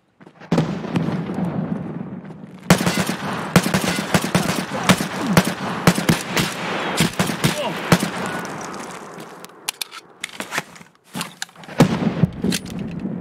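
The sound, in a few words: gunfire in a video game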